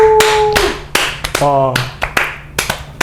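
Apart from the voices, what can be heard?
audience clapping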